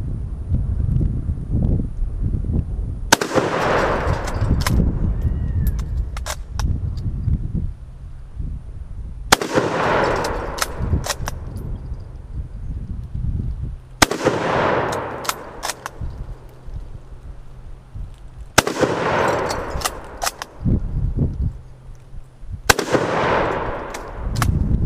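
Five loud, booming rifle shots from a Golden State Armory GRI No1Mk3 .303 conversion rifle fired down range outdoors, spaced several seconds apart, each with a long echoing decay.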